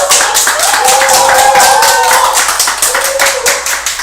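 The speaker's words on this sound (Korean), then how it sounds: "박수 치셔도 됩니다" An audience claps at an indoor political campaign talk in Korea, a steady, dense round of many hands that stays loud and even for several seconds, with faint voices mixed in.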